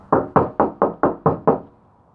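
Seven quick, evenly spaced knocks ring hollow and close on a bare cargo van panel that has no sound deadening, each with a short resonant tail.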